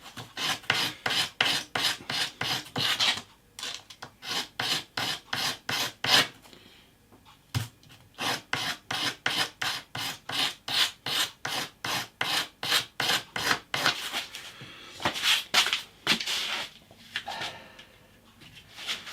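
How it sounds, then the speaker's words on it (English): Sandpaper rasps back and forth over the frets of an electric guitar neck clamped in a fret vise, a steady run of close, rhythmic strokes with only a few brief pauses. "Bit of sandpaper."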